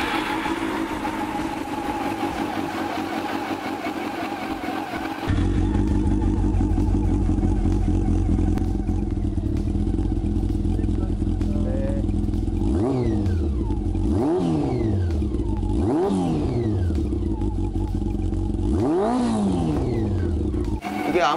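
An idling background gives way as an old carbureted Honda CB400 motorcycle engine kicks into a loud steady idle, then revs several times, each rise and fall swelling sharply and sputtering back down.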